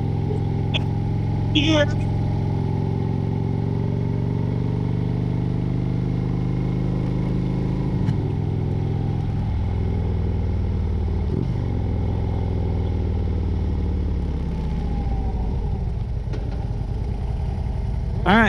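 A motorcycle carrying a passenger hums with a low, steady engine drone throughout, partly under people talking, with a few light clatters.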